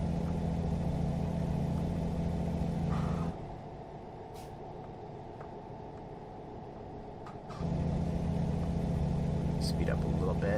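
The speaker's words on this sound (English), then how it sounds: "Hear that engine downshift." A heavy truck engine in American Truck Simulator drones loudly, drops to a lower, rougher note for several seconds as it downshifts while slowing, then climbs back to its steady hum; no one speaks.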